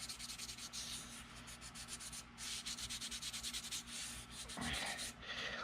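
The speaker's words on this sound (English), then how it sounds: "And then I'm going to use a 1500." The original fuel cap of a 1983 Suzuki GS1100E is sanded by hand with 1500 grit paper, giving close, quiet rhythmic rubbing strokes with short pauses between passes.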